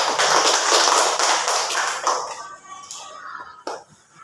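Children in a classroom applaud briefly after a reading, a dense burst of clapping that fades out over a few seconds with light voices near the end.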